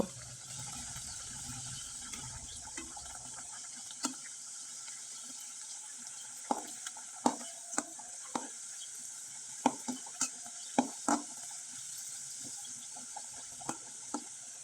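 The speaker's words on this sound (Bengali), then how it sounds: "উল্টে দেওয়ার পরে একবারে মুচমুচে করে ভেজে নিব" Pata pitha cakes crisp in a frying pan with a soft, steady hiss, punctuated by a dozen or so sharp utensil taps and scrapes at irregular intervals.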